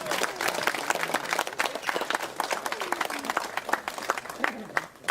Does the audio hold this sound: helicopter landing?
no